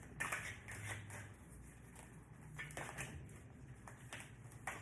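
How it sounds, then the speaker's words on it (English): Tarot cards are shuffled by hand during a reading, producing soft irregular riffling and slapping bursts, faint and close in a quiet room. "These cards are hard to shuffle, I tell you."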